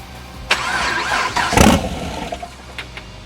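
A big-turbo Camaro engine cranks and fires up for the first time, with a loud, sudden catch and roar before it settles into a rough, uneven idle nearby.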